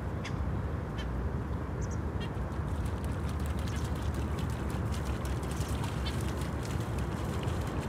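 Ducks quack intermittently against a steady outdoor wash of wind or water noise, the calls fairly distant and not very loud.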